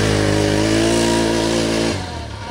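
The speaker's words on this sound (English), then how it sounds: "Open it up and the exhaust isn't obnoxiously loud, but it still offers a satisfyingly sporty sounding grunt." A 2024 Can-Am Outlander 1000R XT-P ATV revs its exhaust in a loud, sporty, throaty drone with strong harmonics, then the throttle drops off and the engine settles to a lower idle.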